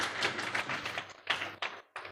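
A church congregation at a prayer meeting clapping in a quick run of claps, then a few separate bursts near the end, close and moderately loud.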